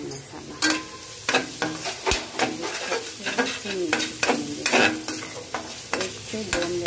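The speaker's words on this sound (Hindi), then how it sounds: "एक से दो मिनट तक भूनेंगे।" Garam masala roasts in hot oil in a pan, a close sizzle broken by repeated scraping strokes of a spoon stirring in an irregular rhythm, fairly loud and without speech.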